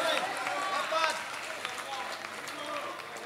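A concert crowd at a music show claps loudly, with busy applause mixed with voices and a few tonal sounds.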